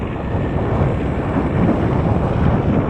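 Strong wind roars without a break on a snowy mountain during a blizzard, a loud, dense rumble buffeting the microphone and swelling slightly, with no talk.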